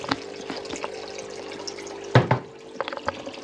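Water runs and splashes while being changed for cows, a low steady flow with a sudden louder gush and a few sharp drips and knocks near the end, no voices.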